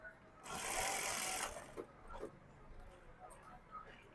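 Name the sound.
sewing machine stitching fabric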